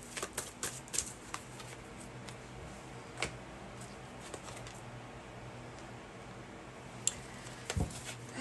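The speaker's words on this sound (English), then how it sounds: "I'm gonna pull all the cards before I start reading" Tarot cards are pulled and shuffled in quiet, irregular bursts of crisp flicks and soft taps, sparse clicks with short pauses between them and no speech.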